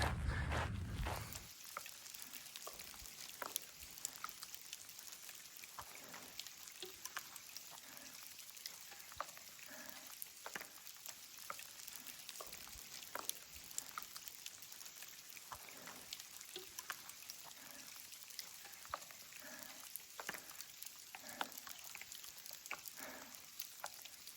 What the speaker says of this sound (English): Beautiful musical sound of hail at altitude.